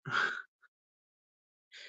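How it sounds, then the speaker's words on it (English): A person breathes audibly right into the microphone, with a sharp, close inhale-like gasp, a tiny puff, then silence before another breath starts. "I can hear myself breathing every freaking second"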